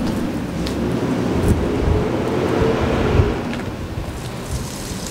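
Laundry rinse water is tipped out outdoors at an off-grid homestead, a steady broad splashing rush that runs continuously and fairly loud with no talk over it.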